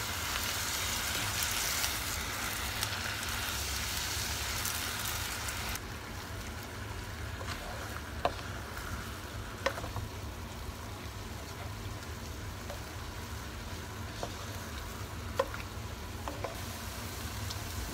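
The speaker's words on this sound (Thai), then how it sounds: "เดี๋ยวจะผัดให้วุ้นเส้นสุกดี" Glass noodles for Thai dry suki are stir-fried in a pan with a little water, making a steady broadband hiss. It starts loud, then drops to a softer sizzle with a few faint scrapes and ticks.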